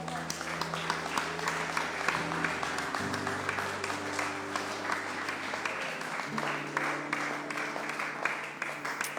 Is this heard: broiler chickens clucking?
no